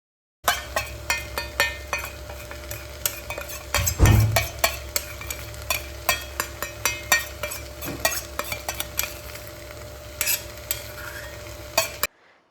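A ground coriander and cashew paste fries in a pressure cooker, giving a soft steady sizzle. A spoon stirs it with repeated close scrapes and clinks, and one louder knock comes partway through.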